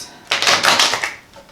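Tarot cards being shuffled by hand, a dense burst of rapid papery flicks and taps lasting about a second after a brief quiet start, close and fairly loud, then trailing off.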